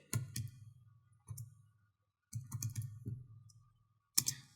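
Short bursts of clicky keystrokes on a computer keyboard while entering a system date on an OS6860E-24 switch, typed in quick clusters with brief pauses between them, close and fairly quiet.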